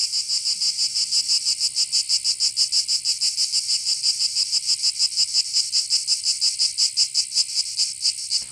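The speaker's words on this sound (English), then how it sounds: "That's the real sound of cicadas." Cicadas chirp through an evening, a dense, steady high-pitched buzz pulsing in a fast regular rhythm, loud and continuous throughout with no voices.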